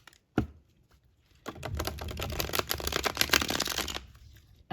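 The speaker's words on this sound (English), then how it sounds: "And they shuffle wonderfully, as you can see." A deck of slightly oversized transparent tarot cards being shuffled, one sharp snap followed by a dense, crisp riffling flutter lasting a few seconds, close and clear with no talk.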